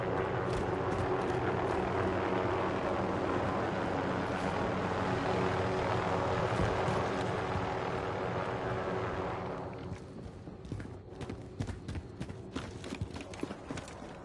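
Helicopter in a Warzone match: a steady, loud rotor and engine drone fills most of the stretch, then thins out near the end, leaving sharper scattered game noises behind.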